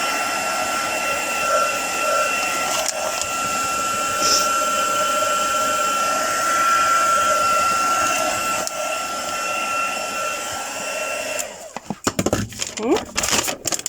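A handheld dryer blows steadily over spray-dyed fabric flowers made from an old blouse, a loud continuous whirring hum with a faint whine that cuts off near the end, followed by brief clattering handling noises.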